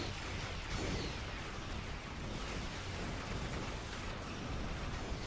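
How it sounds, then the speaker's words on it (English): Torpedo explosions in the space game Star Trek Online, a dense, continuous roar of blasts and rumbling booms that stays loud and steady throughout. "I'm being chased by torpedoes."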